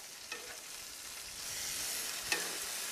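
Bacon sizzles steadily in a frying pan just after being flipped, a continuous broadband crackle that swells slightly midway, with a couple of brief sharper pops, no talking.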